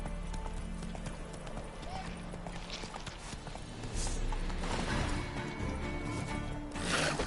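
Horse hooves clip-clop in The Witcher 3: Wild Hunt, a steady rhythmic trot on hard ground lasting several seconds, accompanied by ambient game sounds and some voices.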